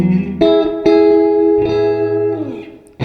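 Electric guitar played through a Carbon Copy analog delay pedal into a 1962 Fender Deluxe brown panel amp, several loud strummed chords ringing out with a short slapback echo and a slightly chorused shimmer, sustaining between strikes.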